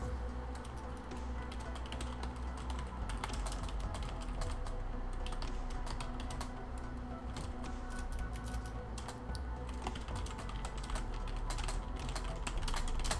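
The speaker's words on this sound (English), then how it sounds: "I'm just typing a message here" Rapid, continuous clicking of computer keyboard keys is heard up close, with irregular bursts of keystrokes over a low background hum for the whole stretch.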